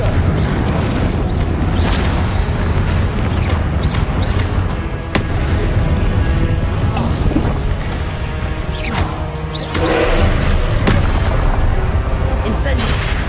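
Confringo explosion spells cast in Hogwarts Legacy, a series of sharp booming blasts repeating every second or two over a dense rumbling game soundscape, loud and close.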